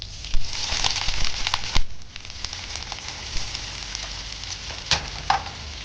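Onions frying in hot oil for butter chicken, a steady broadband sizzle with crackling pops and a few sharp spikes, continuous and close throughout.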